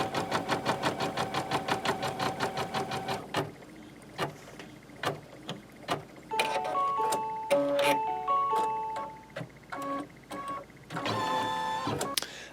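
An embroidery machine sews out a freestanding 3D flower design, giving a fast, steady mechanical stitching rattle in the opening seconds, then lighter intermittent clicks and short tonal beeps, with a denser burst of whirring near the end.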